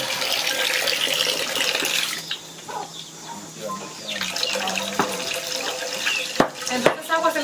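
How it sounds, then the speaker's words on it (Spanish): Tap water runs into a sink while rice is washed in a home kitchen, a steady hiss and splash throughout with some clattering near the end, and people talk faintly in the background. "Entonces agua se le echa para cocinarlo"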